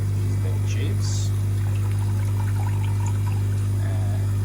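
Water overflowing from a cichlid fry tank's filter tray trickles and pours back into the tank, a steady close stream over a constant low pump hum with a brief splashier burst early on.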